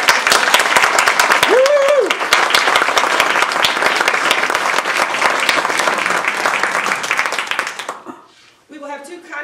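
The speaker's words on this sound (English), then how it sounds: "can we please have a round of applause for our very own Northeast Division Governor, Jane Sanders." An audience at a Toastmasters Northeast Division table topics contest bursts into sustained applause, dense clapping that holds steady for about eight seconds before fading, with brief voices after.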